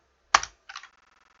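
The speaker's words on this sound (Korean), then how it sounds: "문단 번호를 넣기 전에 일단 내용을 먼저 다 타이핑을 하도록 하겠습니다." A short burst of keyboard clicks: a sharp cluster of keystrokes followed by a second quicker group, close and fairly quiet, with no talking.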